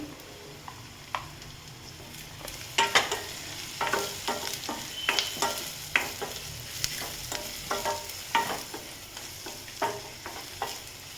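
Onions with crushed turmeric fry and sizzle in a pan, a spoon scraping and stirring through them in irregular clattering bursts over a steady hiss, close by, with no talking.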